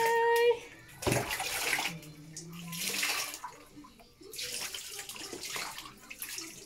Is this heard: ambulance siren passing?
no